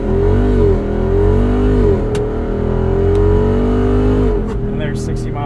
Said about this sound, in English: Let's turn off traction control and do a little bit of a launch